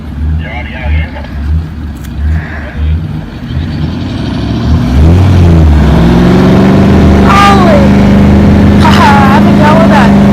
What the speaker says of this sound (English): That's V8 grunt for you, and the 80 series is now free